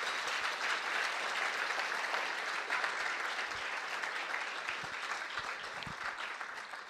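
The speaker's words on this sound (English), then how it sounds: "Please join me in giving them both a round of applause again." An audience at a high school debate championship applauds the two debaters, a dense, sustained wash of clapping that holds steady and eases slightly toward the end.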